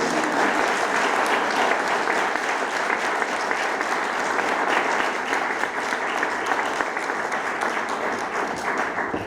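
Sustained, dense audience applause at an address to women entrepreneurs on the Union Budget, an even wash of many hands clapping that holds steady for the whole stretch without pause.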